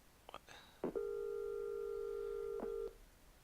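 A telephone call: a few short dialing tones, then a long steady ringback tone that holds for about two seconds and cuts off, clear and close against a quiet background.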